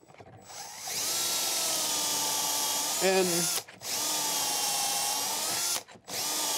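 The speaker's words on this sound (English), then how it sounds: "I just drill until the collar stops the bit." A power drill with a 3/8 inch pilot-tip bit and stop collar whines loudly and steadily as it bores a pocket hole into wood, pitch dipping briefly under load, with two short pauses before it spins up again.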